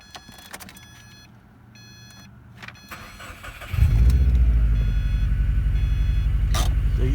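A 2012 Subaru Impreza WRX's turbocharged 2.5L boxer engine cranks and catches with a sudden loud roar, then settles into a steady, rumbling idle through an aftermarket exhaust, preceded by faint key-in-ignition buzzing and clicks inside the car.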